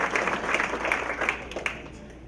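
An audience at a Salvation Army 2017 committee gathering applauds their leader, a short burst of dense, moderately loud clapping that fades slightly toward the end.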